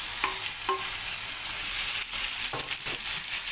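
Chicken pieces tumble into onions already frying in a pan, giving a steady sizzle with a few sharp scraping stirs near the start and again toward the end; no one speaks.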